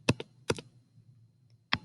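Keys on a graphing calculator keypad are pressed while an equation is entered: a few sharp, close plastic clicks, spaced irregularly with a short pause between them.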